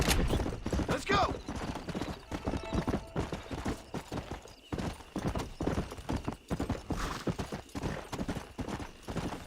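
In Red Dead Redemption, a horse's hooves clip-clop steadily and close in a quick galloping rhythm, with faint game ambience and occasional distant gunshot-like cracks underneath.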